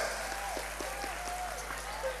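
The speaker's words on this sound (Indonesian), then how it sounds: "Tepuk tangan, luar biasa." Audience at a large Islamic religious gathering clapping in a steady rhythmic beat beneath a speaking voice, the claps soft and evenly spaced.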